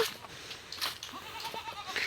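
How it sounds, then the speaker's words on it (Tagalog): A goat bleats in a short run of quavering calls outdoors, fairly faint, against light background noise. "Kambing!"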